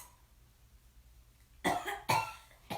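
A storyteller imitates a sick bear coughing with two harsh, close coughs in a row after a quiet pause, loud and alone with no other talk.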